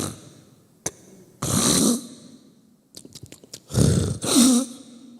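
A preacher imitates snoring with his voice: two loud, rasping snore-like breaths with a sharp click and short snorts between them, close and alone with no other talk.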